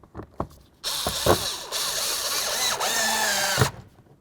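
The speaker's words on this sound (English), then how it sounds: "Let's go ahead and put in the anchor bolt here." A power drill drives in an anchor bolt while a 1997-05 Lexus GS window regulator is installed: a few short clicks, then a loud, close, sustained whirring run of about three seconds with pitch shifts, ending abruptly.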